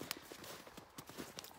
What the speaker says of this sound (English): I have attained the horse